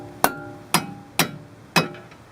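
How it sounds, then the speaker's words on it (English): Four sharp metallic knocks from a rubber mallet striking a castle nut on a car's outer tie rod end, evenly spaced and close, each ringing briefly before fading. "I'll use a rubber mallet just to be safe."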